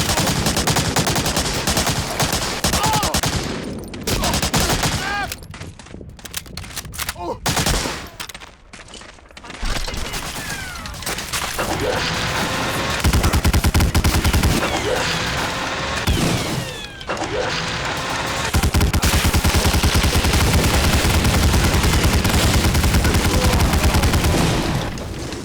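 Dense bursts of automatic and single gunfire in the first-person shooter Medal of Honor Warfighter, loud and near, rattling almost without pause over roughly twenty-five seconds with short quieter gaps and game action noise.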